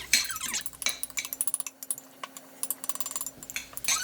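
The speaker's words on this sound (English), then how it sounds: "The rice is already cold, so I'm just gonna mix it up very well." Cold cooked rice being mixed in a bowl, a quick run of light clinking and scraping of a utensil against the dish, close and fairly crisp with short pauses, no talking.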